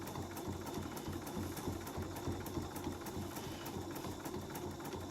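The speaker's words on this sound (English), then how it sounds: "stitch this all the way around. And I'm doing it in the ditch." A sewing machine stitching in the ditch around quilt binding on a turkey trivet, a faint, fast, even mechanical patter running steadily and alone.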